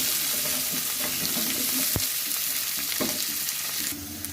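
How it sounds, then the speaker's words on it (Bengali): Potato pieces frying in oil in a wok with cumin seeds and bay leaves, a dense continuous close sizzle broken by a few scraping stirs, then dropping quieter near the end. "আলুটা আমি ভেজে নেব।"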